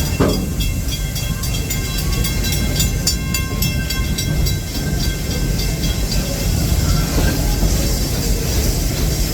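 The Serengeti Express park train at Busch Gardens Tampa rolls along its track with a steady, loud rumble and hiss, rail noise constant from start to finish, with no voices.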